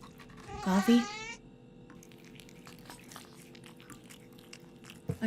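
A cat in the video game The Operator gives a short meow-like call early on, followed by quiet ambient clicks and soft eating or chewing noises, with a brief thump at the end.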